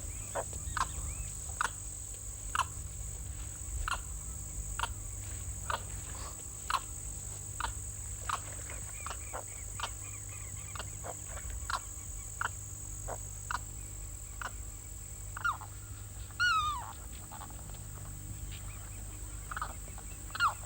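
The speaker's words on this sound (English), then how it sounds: "A larger marsh bird is the limpkin, related to the crane." A limpkin calls in a marsh with repeated sharp, clipped notes at a steady, irregular rhythm, set over a constant insect drone and low hum, fairly distant.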